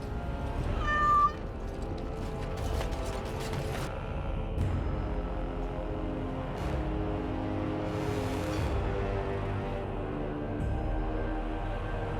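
A cat meows clearly over a layered, droning game soundtrack in Dragon Age: Origins, followed by creaking mechanical clanks and whooshes.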